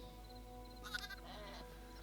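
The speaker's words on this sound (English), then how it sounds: "What does that sound? Oh, it's a sheep." A sheep in the video game Hytale gives a short bleat, faint and brief over a quiet steady game ambience hum, with no talking.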